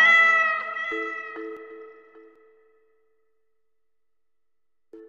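A single drawn-out cat meow, clear and close, trails off into silence before a brief soft tone at the end.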